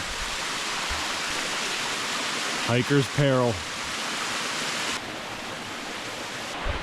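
Steady broadband rush of a small ice-covered waterfall fills the whole clip, with a brief spoken phrase near the middle.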